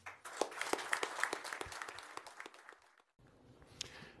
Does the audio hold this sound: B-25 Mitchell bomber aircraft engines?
no